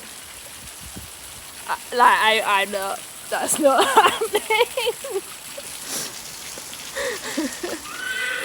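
Heavy rain pattering steadily during outdoor groundwork training with horses, a constant wash of rainfall under someone speaking.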